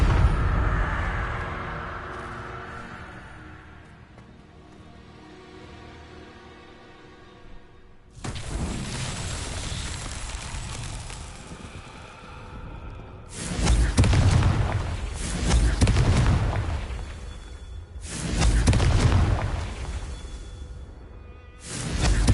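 Confringo blasting curses detonate in the Hogwarts Legacy video game: a quiet lead-in, then three loud booming explosions with whooshing bursts arriving in waves, no talk.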